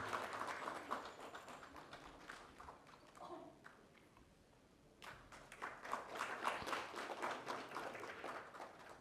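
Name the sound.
audience applause at a felicitation ceremony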